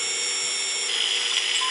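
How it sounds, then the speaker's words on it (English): Steady high-pitched whine of a surgical drill in Surgeon Simulator, running continuously and loud throughout without pauses. "Now let's start drilling."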